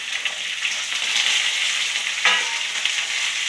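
Carrot, knol-khol, radish and beans fry in oil with a bright, steady hiss and one brief scrape of stirring partway through, moderately loud and without talk.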